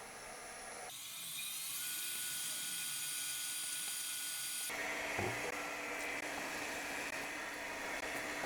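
A drill bores holes in a machined aluminium cylinder head cover for a four-cylinder Honda Monkey engine build, a steady high whine starting after a second and running close and continuous, shifting pitch midway.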